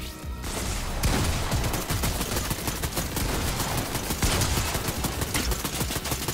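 Rapid gunfire in the video game Fortnite, dense bursts of shots close and loud, continuing almost without pause after a brief opening moment.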